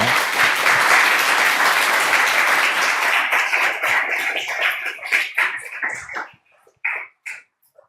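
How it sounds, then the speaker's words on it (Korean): A church congregation at a Sunday worship service claps to welcome a pastor to the pulpit. The applause is loud and sustained, then thins into scattered claps before stopping. "우리 박수로 폴박 목사님을 모시도록 하겠습니다."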